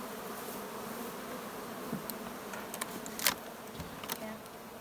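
Nurse bees on a hive brood frame drone in a continuous close buzz during a hive split, with a few soft knocks and handling clicks over the hum.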